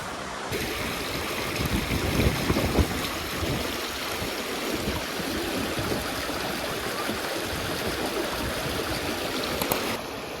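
A river rushes steadily at the end of a mountain hike, a broad continuous roar of flowing water heard close and fairly loud throughout, with no talk.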